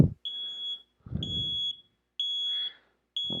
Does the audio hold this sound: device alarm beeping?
yes